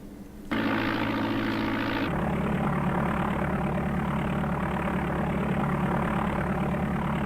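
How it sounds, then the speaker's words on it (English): Propeller engines on an aircraft in DOS Flight Simulator 4 cough into life, then settle into a loud, steady droning hum with no talking. "We'll go ahead and start our engines"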